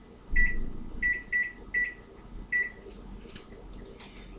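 A kitchen timer used while baking chocolate scones beeps in short, evenly spaced electronic tones, five clear beeps followed by faint clatter and handling noise.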